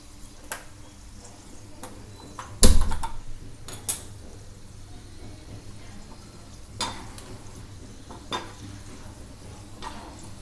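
Pickle ingredients with asafoetida being mixed together in a pan, giving soft scraping and stirring sounds with a few sharper clinks of a spoon against metal and one louder knock, under a faint sizzle.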